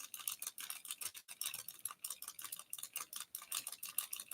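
Knitting I-cord maker cranked by hand, giving a fast, steady stream of small plastic clicks and ticks, faint and close, with no talking over it.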